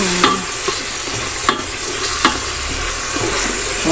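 Food sautés in a multi cooker on its fast cook setting, with a steady loud sizzle broken by periodic scraping stirs from a utensil.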